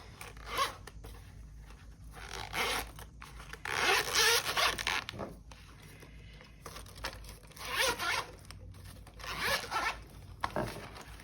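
Zipper on a colored pencil case being pulled open in several quick rasping bursts, close and fairly loud, with short pauses and faint handling rustles between pulls.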